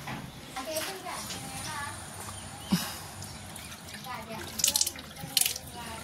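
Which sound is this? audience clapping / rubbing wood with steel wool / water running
water running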